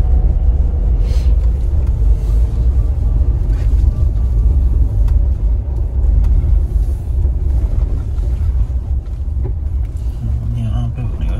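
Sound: 4x4 vehicle climbing a steep black-ice road

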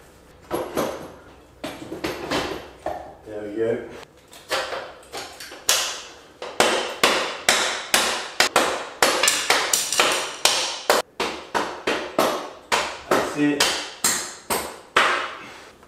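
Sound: hammering a bolt in to mount an Xt225 motorcycle engine

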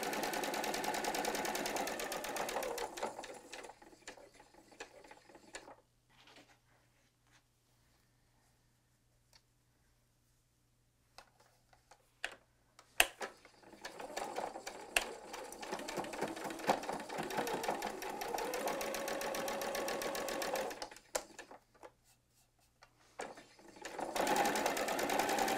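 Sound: sewing machine stitching quilt fabric

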